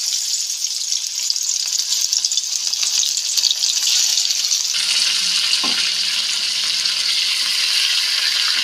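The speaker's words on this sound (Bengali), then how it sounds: "এখন এই পেঁয়াজ ভাজা তেলের মধ্যেই আমি এক এক করে চিকেনের পিসগুলো দিয়ে দেব।" Chicken pieces drop into oil left over from frying onions in a kadai and sizzle steadily, with a continuous crackling hiss that swells a little midway and carries on alone.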